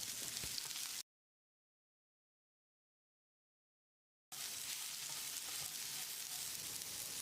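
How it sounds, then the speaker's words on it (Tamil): Chopped, peeled ridge gourd sautés in a pan over a medium flame, giving a steady close sizzle and crackle in two stretches separated by a silent gap. "அளவான தீயில 1 நிமிஷம் இதை வதக்கி விட்டுடலாம்."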